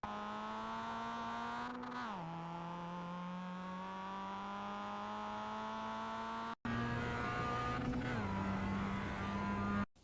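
A Mazda MX-5 race car in iRacing at Oulton Park holds a steady engine drone, dipping briefly around two seconds, then cuts out and returns louder as it accelerates, a close continuous buzzing note with no talk.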